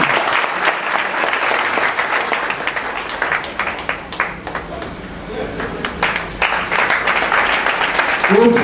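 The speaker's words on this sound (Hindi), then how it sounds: "जोरदार ताली।" Loud, sustained applause from a large audience at a Kamuna Group corporate function in Bareilly, with dense clapping throughout, a slight dip midway, and a few stray voices near the end.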